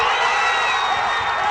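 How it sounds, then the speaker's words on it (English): A large crowd cheers and shouts at the Rio de Janeiro Olympic host-city announcement, a loud, dense roar with whoops and high voices sustained throughout the brief moment. "This cheering suggests that America missed out."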